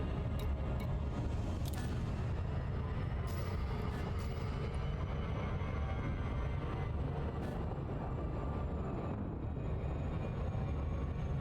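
A hyperspace jump in Elite Dangerous rumbles as a dense, steady roar with deep low-end drive and faint high whines and swells, sustained throughout at moderate level, no voices.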